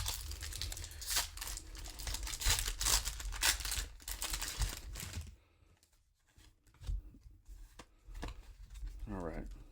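Pokémon card booster packs from a Twilight Masquerade Elite Trainer Box are ripped open, loud crinkling and tearing foil up close under a talking voice, followed by quieter shuffling and a softer crinkle near the end.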